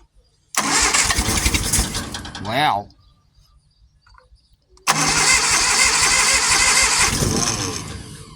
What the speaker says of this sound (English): I'll try a bit more engine start.